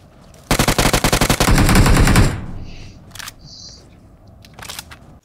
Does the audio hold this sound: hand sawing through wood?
no